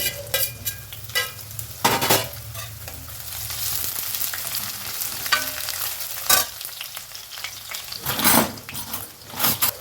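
Ginger fries in a pan of oil for chana masala, a continuous close sizzle overlaid by repeated scraping and clinking strokes of a utensil stirring the pan.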